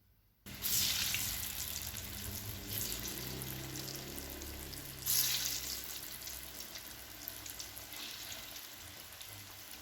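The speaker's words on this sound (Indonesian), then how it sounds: "Oke, minyak sudah panas, langsung saja kita goreng adonan singkong parut yang sudah kita bentuk." Shaped grated-cassava dough hits hot oil with a sudden, loud sizzle that keeps crackling and hissing, flaring up again midway as more goes in.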